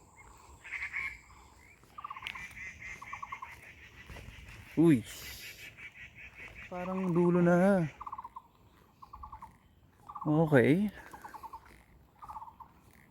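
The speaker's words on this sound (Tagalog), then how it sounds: "Alam, may maingay na ibon." A noisy bird at Yongheshan Reservoir in Zhunan, Taiwan, gives several loud, nearby gobbling, honking calls that rise and fall, with quieter chirps between them, while a person talks now and then.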